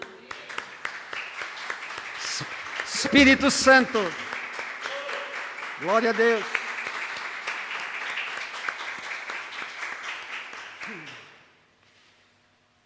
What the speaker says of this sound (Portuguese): Vamos dar um aplauso a ele, amém?